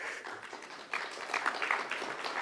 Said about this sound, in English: Fine, you applaud Lee